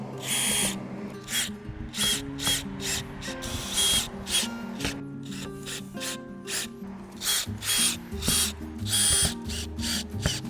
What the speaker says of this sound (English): We can remove these clamps.